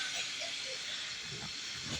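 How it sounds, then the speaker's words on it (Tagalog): Water boils inside an Astron appliance, giving a steady, close hiss of steam with a faint bubbling rumble beneath it and no talk. "Eh, guys, kumukulo na siya."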